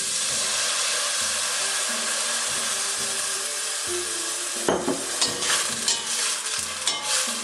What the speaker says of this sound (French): Et tout de suite, sans attendre, je rajoute du vin blanc